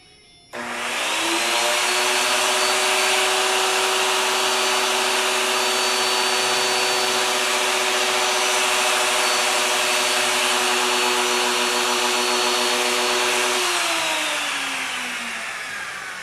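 A router table mills a wood board for a magnetic knife holder, the motor whining up sharply, holding a loud steady high-pitched drone with a cutting rasp, then winding down at the end.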